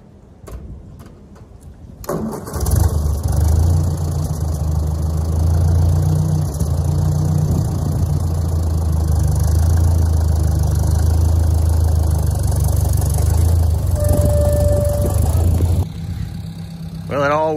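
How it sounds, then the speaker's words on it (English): An old Ford Jubilee tractor works outdoors, its engine idling and revving steadily and loudly for most of the stretch as it slides its forks under logs, with a brief higher whine near the end and quieter noise at the start. "I'll probably slide my forks underneath it"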